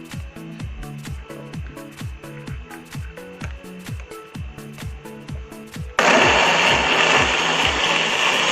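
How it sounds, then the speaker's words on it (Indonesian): A kitchen blender pulses in short rhythmic bursts grinding spices with water for a crab sauce, then switches to a loud continuous whirring roar for the final seconds. "Sekarang kita akan membuat ataupun memblender bumbunya yang terdapat di sini."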